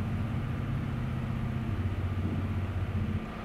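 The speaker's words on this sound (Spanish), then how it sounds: "aplicando el puro freno de motor aquí en la bajada" Engine braking of an MZKT Volat-741351 heavy truck descending a slope in Euro Truck Simulator 2: a steady, loud low rumble with constant drone, continuous throughout with no talk.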